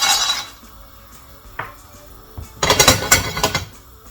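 Peanuts tumbling into a small skillet for beef Massaman curry, a brief clatter of nuts on metal followed by a louder burst of scattered clinks and rattles as they land and shift in the pan.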